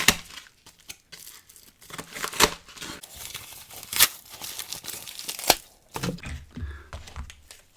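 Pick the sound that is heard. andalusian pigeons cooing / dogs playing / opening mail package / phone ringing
opening mail package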